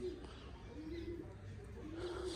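A hungry pigeon coos softly in low, repeated throaty notes over a steady background hum.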